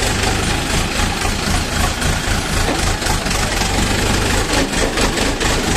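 A 50-horsepower DW mini tractor engine runs steadily and loudly nearby, a rough, throbbing diesel chug with constant noisy clatter.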